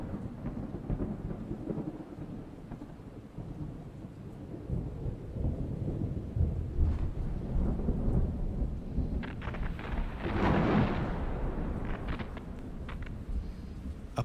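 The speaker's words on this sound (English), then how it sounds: "Perhaps it was nothing but the rumbling noise of a distant thunderstorm." A distant thunderstorm rumbles low and long over a bed of steady rain, the rolling swell peaking near the end, with no voices.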